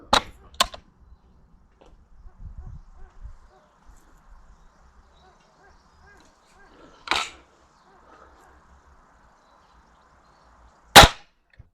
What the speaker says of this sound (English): I'm happy with doing 5 practice shots.